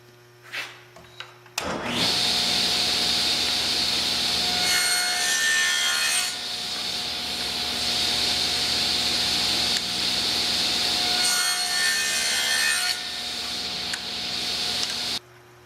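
A power tool cuts slots into wood pieces for shop-made Festool track clips, giving a loud continuous whine-like cutting roar for about thirteen seconds, with two rougher, harsher passes partway through, then stopping abruptly.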